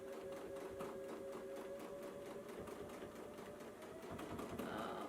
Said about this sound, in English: we're just going to pick some random spots to do some stitching in the ditch